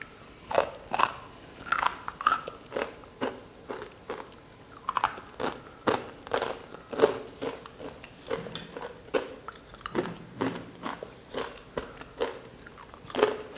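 Crispy, spicy fried potato snack being bitten and chewed up close, a steady run of sharp crunches repeating every half second or so with no talking.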